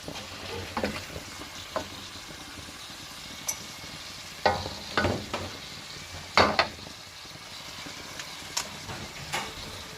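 Hollow Indonesian fried meatballs (bakso goreng) sizzle in hot oil with a steady crackle, punctuated by several louder clattering bursts of stirring, close up and with no talking.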